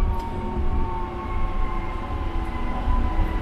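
A tram rides smoothly along a new tram line, giving a continuous low rumble with faint tonal whines and no speech.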